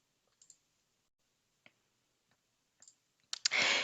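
Mouse clicks while working in software: a few sparse, faint single and double clicks spread out over the quiet, followed by a sudden louder burst of noise at the end.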